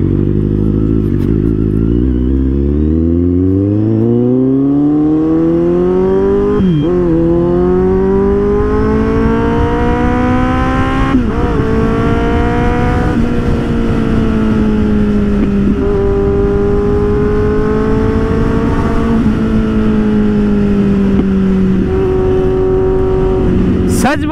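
A heavily modified, very loud Kawasaki Z800 motorcycle being ridden, its engine climbing through revs in long rising pulls with brief dips between gear changes, close and dominant throughout.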